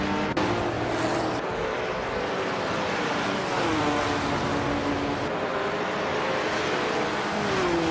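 Several race car engines in a racing video game, among them a 1968 Ford P68 prototype, roar steadily at close range, with pitch sweeps as cars rev and pass. The sound is loud and unbroken throughout, with no speech.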